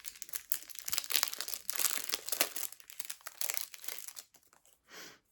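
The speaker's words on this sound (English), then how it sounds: "Unwrap, unwrap, unwrap." Crinkly wrapping paper crackles and rustles close up as a small wrapped item taken from a jar is unwrapped. The busy, uneven crumpling bursts continue throughout, then taper into softer rustles at the end, with no talking.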